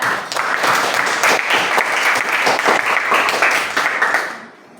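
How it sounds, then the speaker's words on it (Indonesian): Students in a classroom clapping for a presenting group, a dense, even burst of applause that holds steady for about four seconds and then fades out quickly. "Kasih tepuk tangan untuk kelompok 2."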